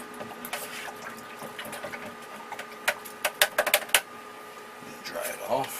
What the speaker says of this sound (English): let's rinse off this flat